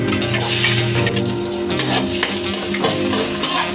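Garlic sizzles loudly in hot oil while pork mechado is being cooked, a dense crackling fry with light stirring scrapes underneath that keeps going steadily and has no voices over it.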